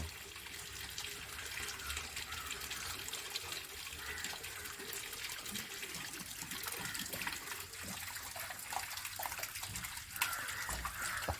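Water runs steadily from a water filter tap in a soft, continuous hiss and trickle, fairly quiet and unbroken.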